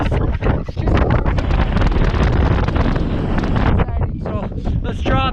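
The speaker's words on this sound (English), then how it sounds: "So it's super windy." Strong wind on a steep mountain ridge at Whistler roars loudly and continuously against the microphone, gusting throughout, with a voice briefly talking near the end.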